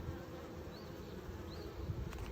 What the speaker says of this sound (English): The bee's entrance is at the very front right here, and this is where they fly in and out of their hive.